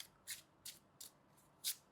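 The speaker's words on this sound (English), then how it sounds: "We need to shuffle your tarot deck as well so that it's ready." A tarot card deck is shuffled in five short, soft riffling bursts at an uneven rhythm, quiet and close with no talk.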